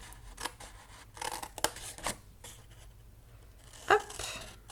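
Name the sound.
cutting cardboard along folds for a birdhouse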